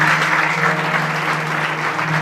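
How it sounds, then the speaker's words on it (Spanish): A church congregation claps together in sustained, dense applause, loud and even throughout, with a low steady tone, likely an instrument or sound system, beneath it. "Denle un aplauso al Señor."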